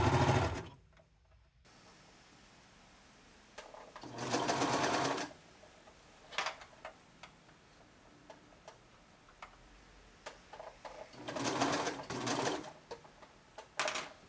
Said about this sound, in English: Just align the edges and allow the serger feed to do the work.